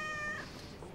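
A young, healthy cat meows once at a veterinary practice, a clear drawn-out cry lasting about half a second, close and fairly loud, followed by faint room noise.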